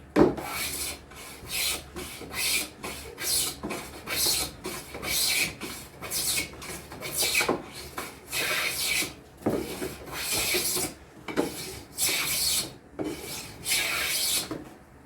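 Hand plane shaving wood for a half lap joint on a replacement gate, with repeated rasping strokes in a steady back-and-forth rhythm, close and moderately loud, with no talk.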